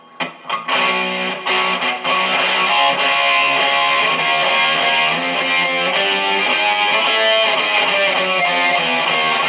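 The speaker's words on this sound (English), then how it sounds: "This is another overdrive. This is a JVM Marshall." An overdriven electric guitar through a Marshall JVM amp plays chords and riffs, thick and saturated, starting with a few picked hits then ringing steadily and loud throughout.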